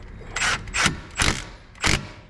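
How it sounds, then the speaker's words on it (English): Short bursts from an impact wrench snugging the brake caliper guide pins on a Honda Civic, four distinct rattling hits in quick succession, close and fairly loud with brief pauses between them. "Take the impact, just"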